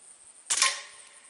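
A single sharp rifle shot fired while testing a Leapers Bugbuster 6x32 AO scope, close and fairly loud, a quick crack with a short decaying tail, alone in a quiet setting.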